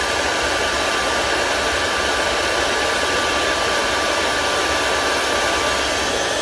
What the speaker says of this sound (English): The reason I use the hairdryer is it blows the crumbs away from the piece